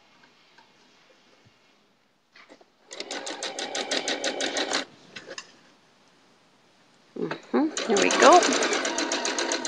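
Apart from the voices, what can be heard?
sewing machine stitching log cabin quilt seams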